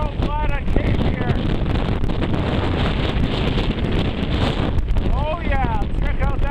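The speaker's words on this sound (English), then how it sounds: "Oh yeah, check out that wind." Strong wind roars across a microphone on the exposed summit of Hamlin Peak in Maine, a steady buffeting rush that runs the whole time, with a person talking over it at the start and again near the end.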